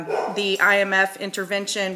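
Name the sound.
dogs barking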